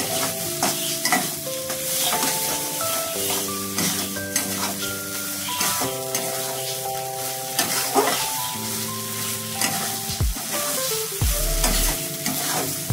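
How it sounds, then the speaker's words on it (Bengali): Mashed bean and shrimp paste stirred in a hot pan, a continuous loud sizzle with repeated scraping and clattering of a spoon against the metal, close and busy throughout with no talking. "আর এটাকে নাড়াচাড়া করে নিলেই রেডি আজকের রেসিপি।"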